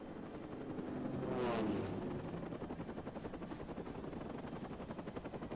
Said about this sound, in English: Sounds like helicopters.